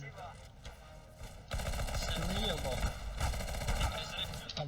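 Video game gunfire rattles in rapid automatic bursts, loud and close, growing denser and heavier partway through as the shooting continues without a break.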